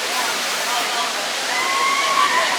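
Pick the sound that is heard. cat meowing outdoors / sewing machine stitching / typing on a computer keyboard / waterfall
waterfall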